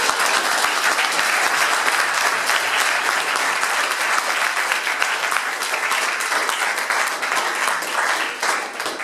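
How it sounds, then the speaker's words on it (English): A room full of Startup Weekend participants gives a loud, sustained round of applause, dense clapping holding steady for several seconds without a break. "I just want to give everybody who's here a huge round of applause for the work you did."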